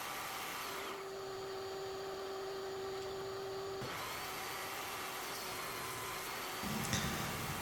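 A power tool cuts wooden bracing blocks for a workbench, a steady whirring drone with a humming tone that shifts partway through, heard close and continuous without talk.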